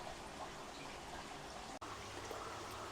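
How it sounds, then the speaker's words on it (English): A thin, steady trickle of water runs from the drain hole of an aquaponics fish tank, a faint continuous dribble with no talk, broken by one tiny dropout near the end. "So you can see water coming out of the drain hole."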